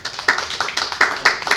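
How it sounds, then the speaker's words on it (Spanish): A small audience clapping to welcome a speaker, sparse uneven hand claps with a loose rhythm, fairly close and moderately loud, lasting under two seconds. "Recibámonos, por favor, con un fuerte aplauso."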